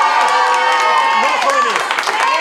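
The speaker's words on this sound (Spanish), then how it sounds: "¡Un aplauso!" Audience applause and cheering from young people gathered together, a dense steady wash of clapping with shouts over it lasting a couple of seconds.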